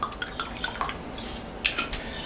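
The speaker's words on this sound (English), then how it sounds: "Pour some Brita in here." Brita-filtered water poured into a container, heard as a quiet trickle with scattered light drips and splashes over about two seconds, with no voices.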